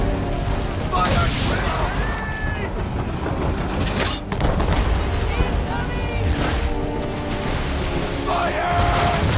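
Ship cannons firing in a naval battle in Assassin's Creed III, a loud, continuous barrage of heavy booms and rumbling blasts with shouting voices over the din.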